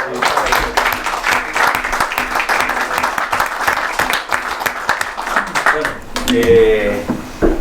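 Loud, dense applause fills a conference hall at a constitutional dialogue event. A voice carries over the clapping as it thins out near the end.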